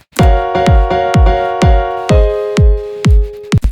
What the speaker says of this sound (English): now you've got this really interesting syncopated rhythm.